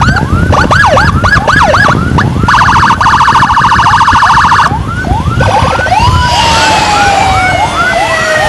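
A loud ambulance siren wails close by on a road in Samarinda, switching between rapid yelp, a steady high-low tone and rising whoops.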